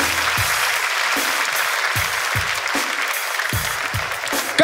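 Sustained audience applause for a comedy guest, steady and full throughout, with a few low thumps.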